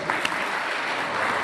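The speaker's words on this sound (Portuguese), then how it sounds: "Aplauda Jesus." A church congregation applauds during a Portuguese-language worship service for leaders, a steady wash of many hands clapping at even loudness through the whole short stretch.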